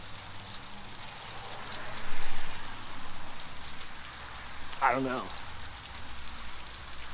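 Rain mixed with small hail falls in a steady, faint crackling hiss, and a voice briefly speaks partway through.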